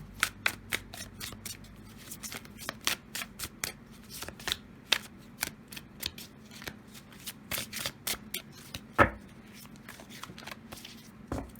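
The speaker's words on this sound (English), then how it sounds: "Okay, so shuffling." American Renaissance Tarot cards being shuffled by hand, a steady run of crisp riffling flicks and taps close by, quiet and uninterrupted, with no talking.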